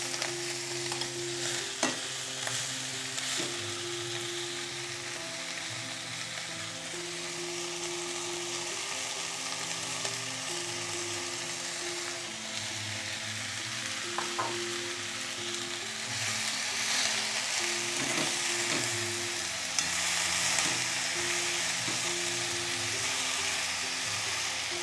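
Water spinach and sprats stir-fry in a pan, a continuous sizzling hiss with intermittent scraping and stirring clatters, close and alone without talk.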